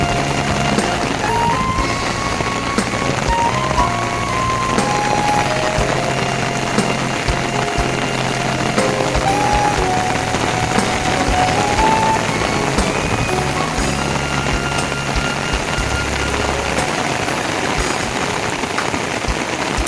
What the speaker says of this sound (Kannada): ಈಗ ಮಳೆ ಜೋರಾಯಿತು, ನಮ್ಮ ಕಡೆ ಸುರಿಯುತ್ತಾ ಬಂದಿತು